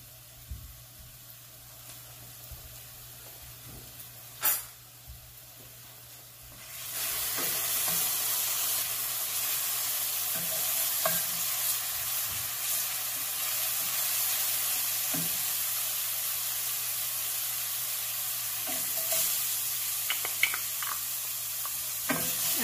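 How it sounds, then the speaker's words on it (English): Garlic hits a very hot pan and erupts into a loud, steady sizzle after several quiet seconds, holding a broad hiss throughout with occasional stir scrapes, for baked ziti with turkey and sausage. "let the pan come to a very hot, and then add some garlic in there"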